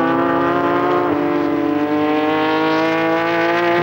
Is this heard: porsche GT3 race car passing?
yes